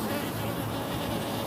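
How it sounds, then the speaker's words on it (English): Honey bee buzzing near a sugar syrup feeder at a beehive in Jamaica, a continuous close hum that stays steady and moderately loud for the whole moment. "So see, there's a bee instantly."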